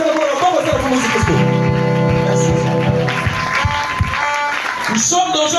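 A church congregation applauds and cheers for Jesus Christ, a broad wash of clapping that swells and continues while a preacher's voice carries over it.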